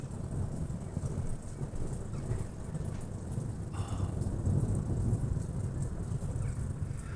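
Steady rain falls under a continuous low rumble of distant thunder during a June thunderstorm, with no voices.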